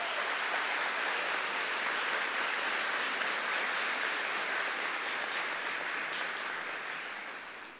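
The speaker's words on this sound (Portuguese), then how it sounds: "Pode aplaudir" Steady, dense applause from a church congregation fills the space evenly at moderate volume, a broad wash of many hands clapping that fades slightly toward the end.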